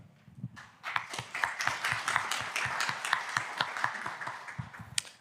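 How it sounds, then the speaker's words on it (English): A conference audience applauds the speakers of a tech talk, a fairly quiet but dense patter of individual claps rising after a second and continuing evenly, with a few louder sharp claps near the end. "So big applause for Jiří and Josef."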